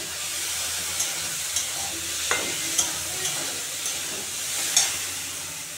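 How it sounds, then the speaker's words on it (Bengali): Masoor lentils fry with turmeric and salt in a pan, giving a steady hiss with occasional stirring clinks spaced about a second apart. "তো বন্ধুরা, ডালগুলো ভাজা হয়ে গেছে"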